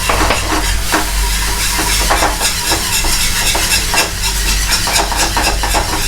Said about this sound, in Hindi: दूध ऐड कर देंगे, मिल्क डाल देंगे इसके अंदर इस स्टेज पर, और हमें इसे लगातार चलाते रहना है ताकि इसमें लम्प नहीं पड़े।